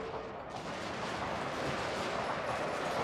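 Cannon and artillery fire in the Total War: Shogun 2 battle game rolls on continuously, a dense, faint-to-moderate barrage of overlapping booms and crackling volleys with no voices.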